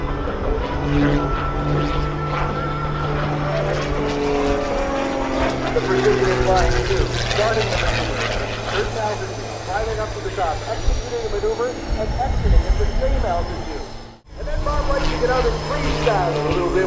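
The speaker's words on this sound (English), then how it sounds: "as he snaps that airplane around tighter and tighter and faster" Extra 330SC aerobatic airplane performing at the 2017 Wings Over Houston air show, its propeller engine droning and shifting pitch as it snaps through tight, fast maneuvers, with an announcer talking over it throughout.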